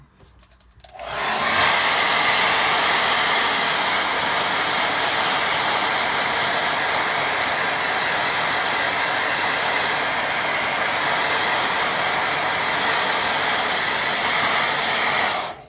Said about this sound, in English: let me give that a quick blast with dryer